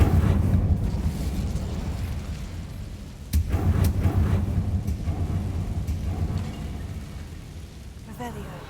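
A fire spell is cast in the Hogwarts Legacy game: a sudden loud whoosh bursts in just past three seconds, followed by a sustained low rumbling roar and crackling over a steady ambient game background.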